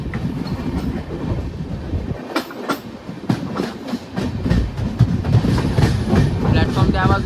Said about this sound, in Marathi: इथे क्रॉसिंगसाठी कुठली तरी ट्रेन लागली आहे